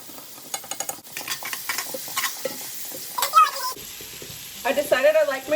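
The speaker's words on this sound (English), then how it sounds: "We've got a lot happening with our bacon and our sausage cooking away, getting nice and crispy" Bacon and sausage fry in a pan with a close crackling sizzle, mixed with stirring and light utensil clinks and brief background sounds.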